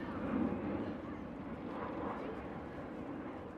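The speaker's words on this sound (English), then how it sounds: "check out this plane" A low-flying airplane passes overhead near an amusement park parking lot in Charlotte, North Carolina, a steady broad roar holding through the whole stretch with people talking faintly underneath.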